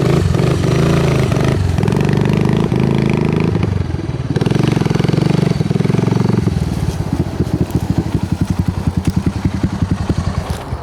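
A neglected 1986 Honda ATC250 Big Red three-wheeler runs close by, its single-cylinder engine droning loud and steady, then settling into a choppy, rhythmic idle putter toward the end.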